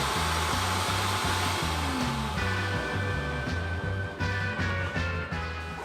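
Heat gun blowing hot air onto the cylinders of a stuck 1950 Chevrolet engine, a steady close whirring hiss with a pulsing low hum and a slight shift in pitch partway through.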